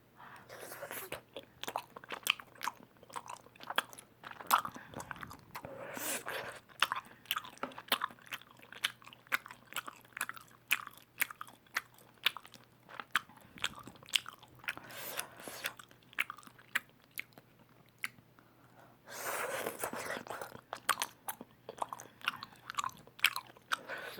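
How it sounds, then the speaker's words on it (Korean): Chewing of tteokbokki dipped in mayonnaise, heard close up: soft, sticky bites and wet mastication repeating steadily, quiet and intimate, with a few brief louder crunchy moments. "마요네즈 찍어서 먹어보기."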